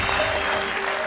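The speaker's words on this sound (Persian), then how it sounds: "دوستان تشویق" An audience claps steadily at a live game show, a short, even burst of applause at moderate loudness.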